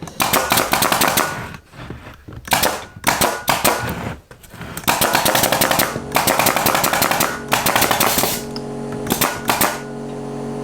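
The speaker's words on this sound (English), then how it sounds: "That's why your nail guns are so easy." A pneumatic nail gun drives nails into an old wooden pallet in quick rapid-fire bursts of sharp cracking shots, separated by short pauses and nearby clatter.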